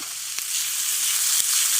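Food sizzles steadily in a pan on a camp stove at a hammock campsite in Central Pennsylvania, a close, continuous hiss with a couple of faint clicks and no talking.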